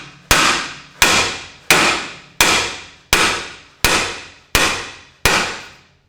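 Hammer striking a BMW X5 control arm, eight sharp metallic clangs at an even, steady pace, each ringing briefly before the next blow, loud and close.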